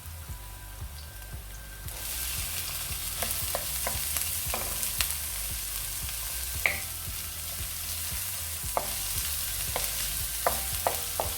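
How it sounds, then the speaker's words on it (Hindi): Onions sizzle steadily in a hot pan for pasta with pastrami, starting loud at about two seconds, with a scattering of sharp scrapes and clinks as they are stirred, and no talking. "बस इसी के साथ ही मैं प्याज डाल दूँगी।"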